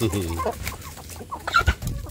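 Village chickens cluck nearby in short, irregular bursts, loud and close, with a voice speaking briefly among them.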